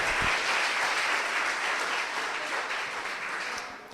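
An audience applauding steadily in a church gathering, a dense wash of clapping that holds and then gradually fades.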